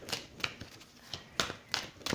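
Tarot cards shuffled by hand during a reading, giving a series of short, crisp riffles and taps at an irregular pace, close and fairly quiet.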